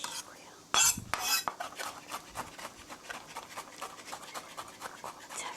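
Chives minced with a knife on a cutting board, a burst of fast chopping taps then a long run of quick, fairly even knife knocks, close but soft, without talk.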